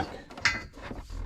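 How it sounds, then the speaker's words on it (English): Bolts being threaded into a Rockhard 4x4 bolt-in roll cage in a Jeep Cherokee XJ, giving brief close metallic ratcheting and clicking, including one sharp clink, over about a second. "thread in the 2 center bolts over there onto the back"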